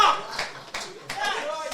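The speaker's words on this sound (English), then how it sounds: "Give a round of applause to Jackson." A short burst of audience clapping for Jackson, called to the front at a podcast gathering. The hand claps are close and uneven, and voices chatter over them.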